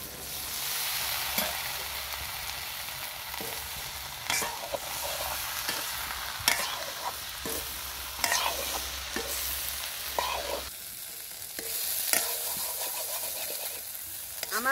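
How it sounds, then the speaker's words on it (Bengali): Crab and taro greens, seasoned with turmeric and salt, fry in a pan with a steady close sizzle, broken by repeated scraping stirs throughout, with no talking. "কাঁকড়াটা আমি ভালো করে ভেজে নেব। এবারে আমি শাকগুলোকে দিয়ে নেব।"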